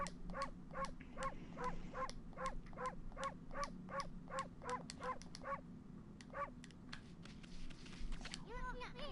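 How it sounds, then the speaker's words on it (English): Rapid, evenly spaced barks from a dog character in the video game Okami, about a dozen sharp yips in a fast rhythm over a low game music bed, then a brief pause and a few more barks near the end. "Why do I have a bark button?"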